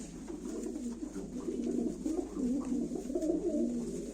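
Close, continuous cooing from Nail Kara game pigeons, several overlapping rolling coos forming a steady murmur.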